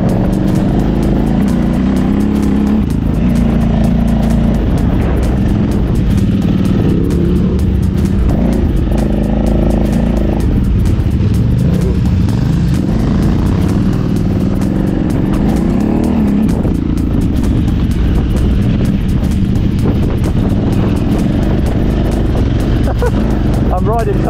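A motorcycle rides an off-road trail at an expert-route festival course with a steady, loud engine drone and shifting revs, while rough wind and ground noise sit underneath.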